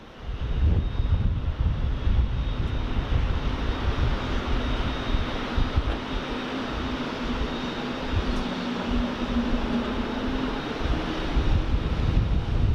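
Airliner touching down at Sydney Airport, a broad, sustained engine roar with wind rumble heard from a distance, holding steady for the whole stretch.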